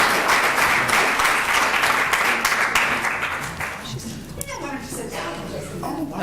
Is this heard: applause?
yes